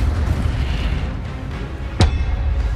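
Incendio fire spell cast in Hogwarts Legacy, heard as one sharp burst over a steady rumbling game background, loud and close, with no talking.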